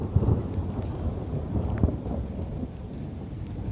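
Low rolling thunder rumbles steadily through a thunderstorm, mixed with the hiss of rain falling on surfaces, with no talking.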